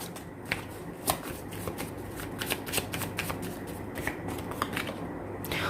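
Tarot cards are shuffled close up in a rapid, continuous riffling patter with frequent crisp flicks and snaps, fairly quiet and with no talk over it.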